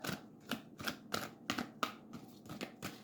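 Tarot cards are shuffled in a quick rhythmic series of about nine soft riffling flicks, close and fairly quiet, with no talking.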